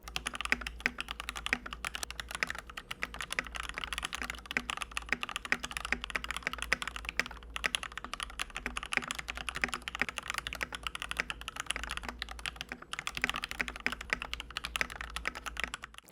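Continuous typing on an XM87 TKL mechanical keyboard fitted with gasket mods, a steady rapid stream of close, crisp key clacks with no talking over it.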